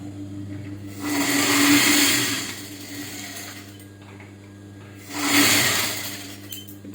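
A sewing machine stitches a silver-trimmed bow-design blouse sleeve piece, running in two whirring bursts separated by a quieter stretch, with a steady low motor hum underneath.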